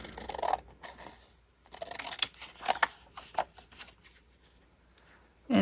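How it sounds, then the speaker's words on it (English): Scissors trim a journal card down, making a run of close, crisp snips and paper rustles in uneven bursts, with a short pause partway through and a louder handling noise at the very end. "And then I just cut it down some"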